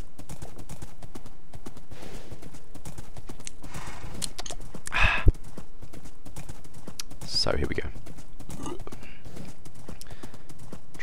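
Horse hooves clip-clopping in a video game, a short run of hoofbeats with a brief neigh, heard under someone talking throughout.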